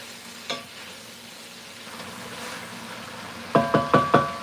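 Onions caramelizing in a pan give a steady low sizzle, punctuated by one soft knock early and a quick run of four sharp utensil taps against the pan near the end.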